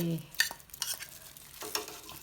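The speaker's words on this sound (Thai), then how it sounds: "เราก็เริ่มขั้นตอนนำนำ น้ำพริกแกงที่เราโขกต่างๆไว้เนี่ยนะ เพื่อนก็ลงไป" Pounded Thai curry paste for a mixed-vegetable sour curry is added to a pot and stirred: faint, brief scraping and soft sizzling strokes in a short, quiet burst.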